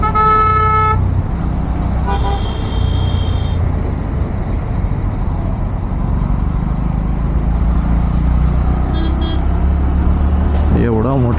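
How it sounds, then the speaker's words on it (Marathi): Jammed traffic at Chandni Chowk with a big truck blocking the road, heard from a motorbike: engine rumble underlies several horn blasts, a long one at the start, another soon after, then short beeps near the end. "चला, चांदणी चौकातली ट्रॅफिक आली आहे."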